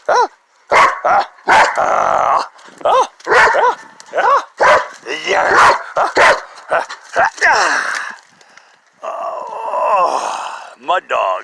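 A muddy dog barks, yips and growls in loud, rapid bursts close by, with a longer grumbling growl near the end, on a rainy day outdoors.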